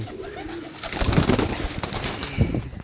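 Pigeons coo repeatedly in low, throaty bursts, close by, with some rustling and fluttering around them.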